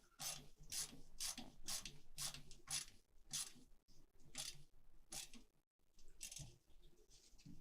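A ratcheting screwdriver drives screws while a PC is assembled, giving quiet, close repeated clicking strokes in a steady rhythm, pausing briefly near 5.7 seconds before resuming.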